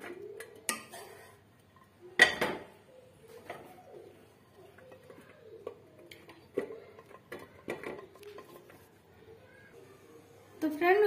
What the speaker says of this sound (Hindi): अब हम इसे एक बर्तन में निकाल लेंगे।